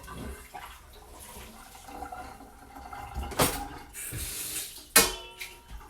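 A hot stainless steel pan is rinsed under running water in an office kitchen, a low wash of water punctuated by two sharp sizzling hisses and clanks as the pan meets the water.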